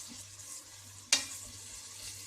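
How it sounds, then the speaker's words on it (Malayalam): Sliced onions frying in hot oil over a high flame for chicken biryani, giving a steady broad sizzle with one sharp stirring scrape or splatter partway through. "ഇത് അടുത്ത് നിന്ന് മാറാതെ ചെയ്യേണ്ട ഒരു പരിപാടിയാണ് ഈ ഉള്ളി വറക്കൽ"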